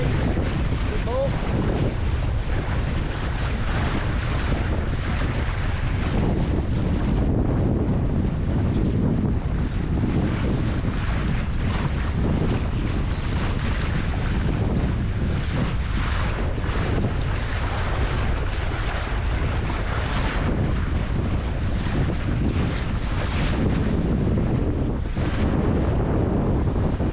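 Heavy wind buffets the microphone continuously while a Mirror dinghy sails in 11 to 12 knot winds, with waves and water rushing along the hull in a dense, loud, unbroken roar.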